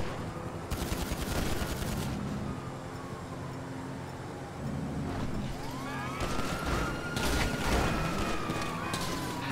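Gunfire in Grand Theft Auto V: several loud bursts of shots crack out in clusters near the start and again toward the end, layered over dense game noise and vehicle sounds.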